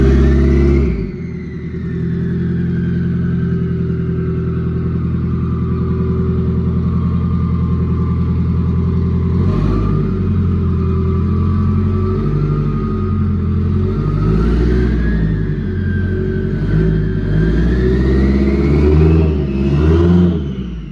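A Honda K24-swapped Corvette engine roars on a dyno, a loud continuous drone whose revs climb, dip and surge again over about twenty seconds, with no talking.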